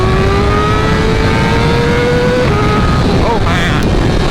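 A 2023 BMW M1000RR superbike revving hard on a dyno, its engine note sweeping steadily up toward high RPM, loud and close, before a brief drop and another rise.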